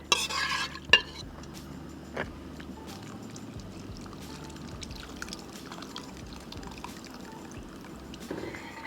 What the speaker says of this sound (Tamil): சாம்பாரை நல்லா கலக்கிட்டு